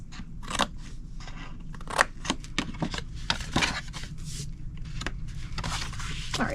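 Scissors cutting paper along score lines while making a Mother's Day gift box, giving a quick series of crisp, close snips and crunches with no talking.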